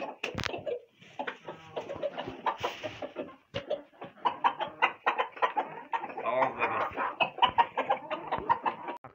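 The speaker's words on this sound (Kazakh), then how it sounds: "Қаздар" A flock of farmyard geese near a nest cackles in a continuous, busy chorus of close, overlapping honks and clucks that rise and fall without pause.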